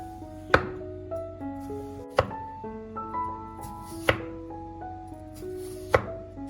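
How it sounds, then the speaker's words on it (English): Knife slicing peeled potatoes into thin layers, a few sharp, well-spaced cuts against a board, roughly every couple of seconds, close and distinct over a faint musical background. "I peel my potatoes and slice them into thin, even layers"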